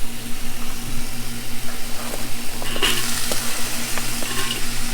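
Head cabbage stir-frying with half-cooked beans for Chinese chow mein noodles, a steady dense sizzle with occasional scrape and clatter of a utensil in the pan, loud and close with a faint background hum.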